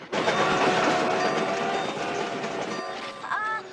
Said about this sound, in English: I think this train's out of control.